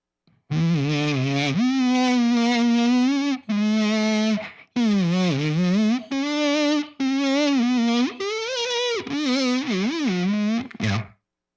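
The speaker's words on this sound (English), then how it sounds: "But during live shows, I'll be adding some distortion." A voice hums a melodic line through a distortion effect for live performance, giving sustained, buzzy, harmonically rich notes in several phrases separated by short breaks.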